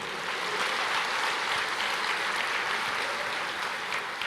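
Church congregation applauds the Lord, a continuous, fairly loud wash of many hands clapping at a steady level throughout with no voices heard.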